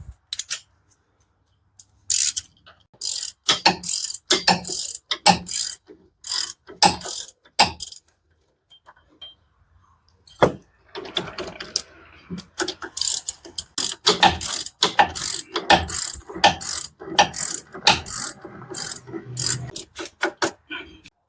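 A ratchet fitted with a small extension and 15 mm socket clicks in repeated bursts while turning the bolts on the front wheel bearing of a 2013 Dodge Journey, the sharp pawl ticks close and loud with short pauses between strokes.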